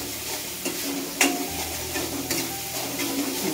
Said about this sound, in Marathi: हलवत राहायचं त्याला